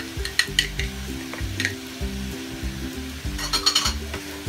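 Pizza sauce ingredients with chili flakes and salt are stirred in a pan on the stove, a spoon scraping and clinking against the metal in repeated strokes over a low sizzle, close and without talk.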